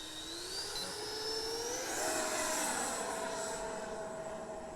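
A Freewing Cougar electric ducted-fan model jet climbs away on takeoff, a smooth rising whine that sweeps upward in pitch and swells as it passes, heard alone at moderate distance.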